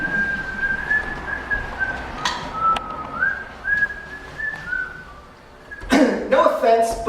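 A person whistles a wavering, sustained tune. Near the end a sudden burst of louder noise cuts in.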